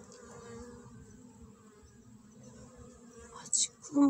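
Japanese honeybees buzz in a continuous, close, hovering drone during an October hive inspection and cleaning, with faint voice-like sounds and a few sharper bursts near the end.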